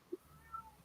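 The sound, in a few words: landlady's cat meowing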